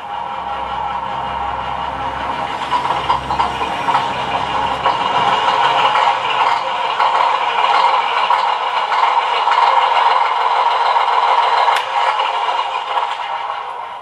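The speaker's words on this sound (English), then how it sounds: "And we have our engine sound." A simulated engine sound for a model truck hums steadily from a small speaker, a buzzy electronic drone that rises slightly and holds, with no talking.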